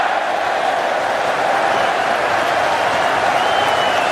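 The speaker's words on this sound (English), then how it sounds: "it's drawn a huge roar from the crowd" A large cricket crowd at an England versus Australia Ashes Test at Headingley roars and applauds after a boundary, a loud, dense, sustained wash of cheering that fills the whole stretch.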